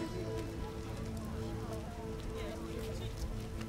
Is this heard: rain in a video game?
yes